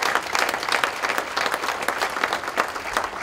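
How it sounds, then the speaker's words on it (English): A community roast audience claps for members of the Optimists club, a dense, steady round of applause from a sizable crowd lasting throughout. "So let's have a round of applause for the Optimists."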